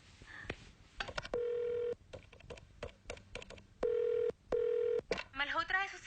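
A telephone number is being dialed, heard as a run of short keypad tones and longer steady tones in an uneven rhythm.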